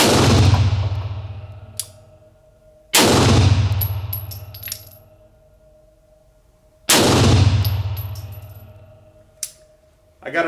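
Beretta M9 pistol fired from seven yards: three loud, sharp shots spaced a few seconds apart, each with a ringing decay, plus light metallic clinks of brass hitting the ground between them.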